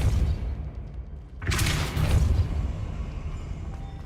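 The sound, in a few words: Depulso force spell cast in Hogwarts Legacy video game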